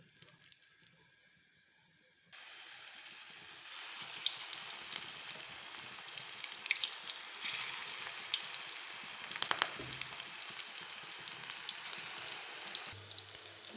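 Pakora batter dropped into hot ghee sets off a steady, close crackling sizzle that fills the whole stretch, with a few small stirring knocks near the end.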